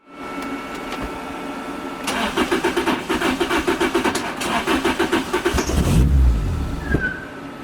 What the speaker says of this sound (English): So since I've been cranking it over